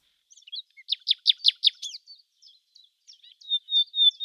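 A small grey nightingale sits on a bough and sings a bright, rapid series of repeated chirping notes, then a few thinner whistled phrases, clear and close against silence.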